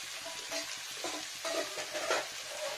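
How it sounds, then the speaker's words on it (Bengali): Rice and vegetables stirred with a pinch of sugar in a pan, a soft continuous fry sizzle with rhythmic scraping strokes of the spatula, close and moderately quiet. "চিনিটা দিয়ে নাড়া দিয়ে একটু"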